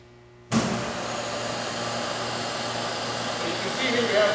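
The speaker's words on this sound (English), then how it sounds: "So we'll turn the vacuum system on." A TAWI high-frequency vacuum lift system switches on abruptly after a short quiet moment, settling into a loud, steady blower-like whoosh that runs continuously.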